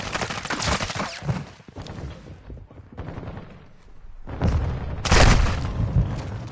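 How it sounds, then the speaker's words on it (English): A flash grenade is thrown in a Modern Warfare 2 battle, sounding as booming blasts and rattling gunfire. A sharp detonation bursts out near the end among dense combat noise. "Throwing flash grenade!"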